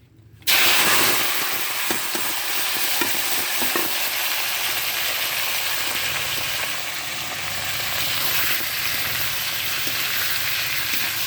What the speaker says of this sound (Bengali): তেল গরম হয়ে গেছে, এবার আমি এগুলো সব একসাথে দিয়ে দেবো।